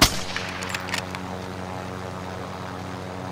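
Gunfire in a helicopter combat video game: a loud burst of several rapid shots at the start, fading into a steady low rotor-like drone that continues to the end.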